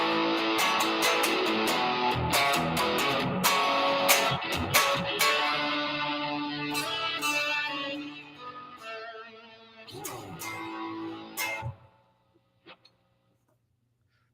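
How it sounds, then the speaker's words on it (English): A 1995-96 Japanese-made Fender Nashville Telecaster with Photoflame finish is strummed and picked in bright, twangy chords and note runs, close and clear, thinning out before stopping near the end. "the 1995-96 made in Japan Photoflame Fender Nashville Telecaster that sounds like this"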